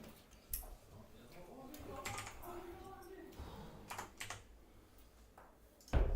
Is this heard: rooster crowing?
no